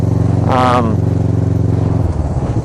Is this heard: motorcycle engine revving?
yes